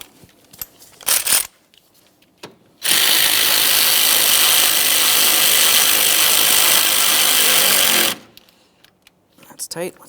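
Bolts on a Nissan Maxima radiator fan assembly are snugged down with a ratchet, a steady rapid clicking that runs for several seconds, near and loud, with brief knocks and handling noises before and after.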